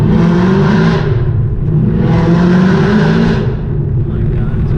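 A car on drag radials pulls hard, its engine roaring loud and close as it climbs, eases off, then surges again through a second rising pull.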